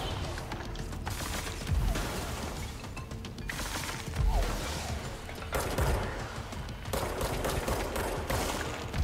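Enemies with automatic guns fire in the video game Control, a dense and continuous rattle of gunfire with heavy booming impacts every couple of seconds, loud and close throughout.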